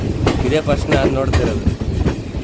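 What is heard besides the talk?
Basava Express train passing on parallel track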